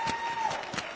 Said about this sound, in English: Give a round of applause to all the spellers